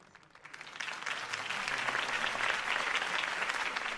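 Applause swells from a few claps into a steady, dense round of clapping from a crowd, sustained and fairly even, in the video game Telltale's Batman.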